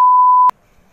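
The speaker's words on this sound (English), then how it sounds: "Let me charge my freaking phone up in here" A single steady electronic beep from a phone being plugged into a charger, holding one clean tone for about half a second, then cutting off abruptly into near silence.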